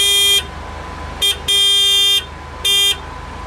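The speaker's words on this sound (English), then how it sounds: "in case you want to know what the horn sounds like in an Ariel Atom" Horn of an Ariel Atom car sounding in three loud, steady blasts, with a long one at the start and middle and two short ones between, nearby and with no voices over it.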